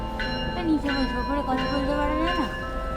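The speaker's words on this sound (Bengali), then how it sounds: "এই যে ট্রেন চলে এসছে" A Lakeshore West train pulls into Niagara Falls station, with sustained tonal wailing and ringing pitched sounds over a low rumble and a busy station background.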